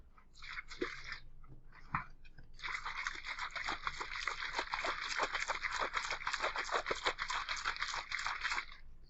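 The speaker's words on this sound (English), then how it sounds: "It was my water bottle. I was shaking my water bottle." A water bottle being shaken, sloshing and rattling in a fast steady rhythm, loud and close, after a few short shakes at the start; no talk.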